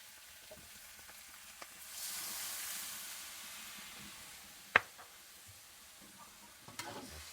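Water poured into a hot pan of cooking leunca vegetables, setting off a soft hissing sizzle for about a second that fades, followed by a sharp utensil clink and light stirring scrapes.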